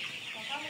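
Chickens, coloured tiger-breed hens kept on a poultry farm, cluck softly and steadily through a brief moment, close by with a busy, bright texture and no clear break.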